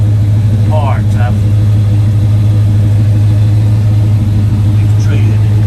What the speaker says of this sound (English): truck sounds good, truck runs good, truck drives good, truck handles good